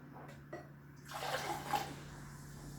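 Freshly carbonated water fizzing inside a SodaStream Fizzi bottle, a soft hiss of rising bubbles that swells after a faint click and stays low and close.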